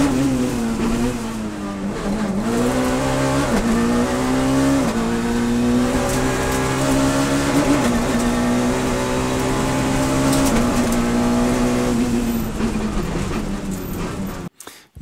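A Citroën Saxo Kit Car rally car on a stage at Thiviers revs hard and steadily, engine pitch climbing and dropping through gear changes and braking, loud and close throughout before cutting off at the end.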